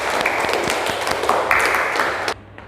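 Classroom applause from students, a dense patter of many hands clapping together for about two seconds before cutting off abruptly, with faint murmuring underneath.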